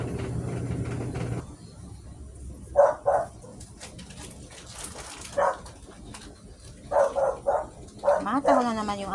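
Dog barking in the background, several separate barks and short bursts at a distance, following a brief steady machine hum at the start, with quiet room noise between barks.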